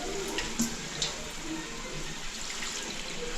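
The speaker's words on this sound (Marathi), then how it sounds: "आता हे कसं पाणी टाकायचं ना ह्याच्यात" Water pouring into a cooking pot of mutton for an Alibaug-style mutton sukka, a steady close splashing stream with a couple of brief louder splashes and no talking.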